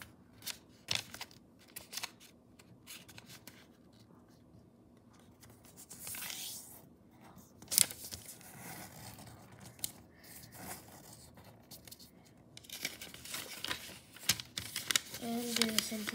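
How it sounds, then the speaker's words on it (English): Origami paper being unfolded and folded into a diagonal triangle, giving soft creases, crinkles and scrapes that come in bursts, with a voice talking over parts of it. "Now unfold, make a diagonal triangle. And fold all the way."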